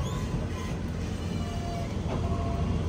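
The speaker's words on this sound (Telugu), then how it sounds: "మెల్లగా అవుటర్ నుంచి స్టేషన్ లోపలికి అయితే వెళ్ళిపోతున్నాం" The Mumbai–Howrah Mail creeps slowly from the outer signal into Nagpur station in the rain, a dense low rumble of wheels and carriage noise heard from on board, with faint squeaks above it.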